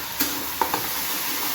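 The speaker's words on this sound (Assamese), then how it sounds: "মুৰ্গীখিনি অলপমান ভুনা কৰি দিওঁ, ভাজি চাজি ৰেডি কৰি ল'লোঁ।" Chicken pieces being stirred and fried in a pan, with salt already added and onions to follow; a soft steady sizzle runs throughout, broken by a few light scrapes of stirring.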